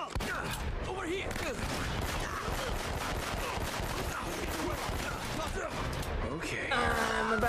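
Rapid bursts of gunfire from a firefight in the video game Uncharted: Drake's Fortune crackle continuously and loudly, with dense automatic fire and scattered single shots layered over game sound, ending in a brief tonal effect.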